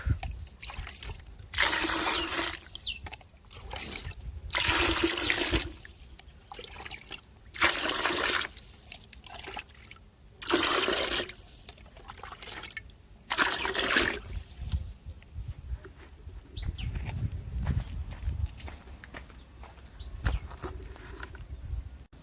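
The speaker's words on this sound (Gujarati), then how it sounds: "પહેલાં એને પાણીથી ભરી પછી આપણે હાથે ધોઈ નાખીએ બરાબર" Repeated bursts of splashing and sloshing water as potatoes are rubbed and rinsed by hand, alternating with quieter trickling pauses.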